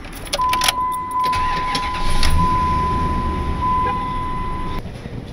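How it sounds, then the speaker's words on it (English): A truck engine cranks and catches in an outdoor lot, a steady mechanical hum holding near and fairly loud, with a thin high whine running through it and some rattling at the start. "And we'll see if the truck starts."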